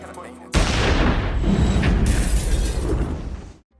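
A bomb explodes inside a building: a sudden loud blast erupts and rolls on as a dense, roaring rumble with debris-like crackle, then cuts off abruptly.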